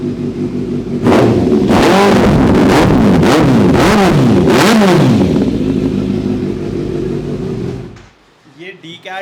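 A motorcycle with a loud de-catted custom SC exhaust revs hard several times in quick succession, close and raw, then drops to idle before cutting off near the end.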